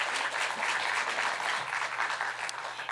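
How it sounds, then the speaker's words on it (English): Audience at an awards ceremony applauding steadily for the full stretch, a dense even wash of clapping from many hands with no voices breaking through. "if we could all give him a round of applause"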